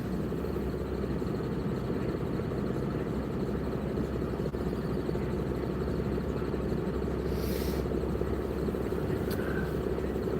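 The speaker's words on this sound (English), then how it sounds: "I think I need a new blower fan." Squealing blower fan in a car with a failing heater, a steady whirring hum with a thin high whine running continuously at close range, no talk.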